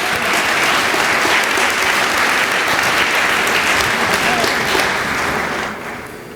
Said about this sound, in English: Please join me in a round of applause in recognition of these great pioneers of Jarvis Christian College.